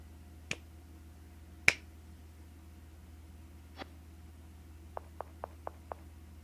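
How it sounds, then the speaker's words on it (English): Sparse sharp claps in an RPG Maker game: a few single slow claps spaced apart, then a quick run of five lighter claps, all fairly quiet. "Harrison's homeboy slowly claps his hands."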